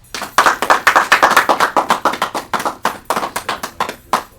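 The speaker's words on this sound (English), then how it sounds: "So let's give Davion a hand clap." Hand clapping from a small audience at a high school football signing day, a quick run of distinct, fairly loud claps that thin out toward the end.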